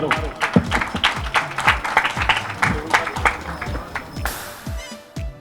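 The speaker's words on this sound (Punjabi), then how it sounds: "ਸਾਰਿਆਂ ਨੂੰ ਬੇਨਤੀ ਹੈ ਜੀ ਤਾੜੀਆਂ ਮਾਰੋ" An audience claps at a Punjabi web series trailer launch, a rhythmic run of fairly close, sharp claps that keeps going for several seconds before thinning out.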